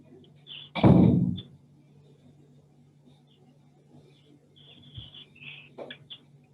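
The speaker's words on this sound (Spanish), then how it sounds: "Me perdonan un instante que voy a cerrar una puerta." An office door swings shut with one loud, close thud near the start, then the room settles into quiet background noise with a few faint knocks and rustles.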